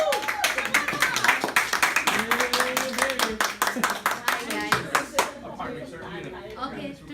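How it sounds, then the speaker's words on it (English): An audience claps at a school debate event. The claps are brisk and scattered, running under overlapping talk before thinning out. "let's give her a warm applause here."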